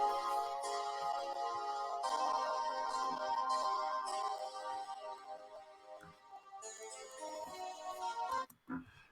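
Soloed music track in a mix, squeezed by a hi-fi compressor effect: dense harmonic instrumental parts play continuously at an even level, thinning toward the end and cutting off abruptly.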